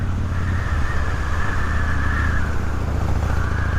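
A Harley-Davidson motorcycle rumbles steadily while being ridden, its low engine drone constant and close, with wind noise over the rider's full-face helmet.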